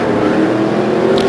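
Speedcar Series race cars scream flat out down the home straight, a loud, sustained high-revving engine roar close by, with a faint passing whine near the end.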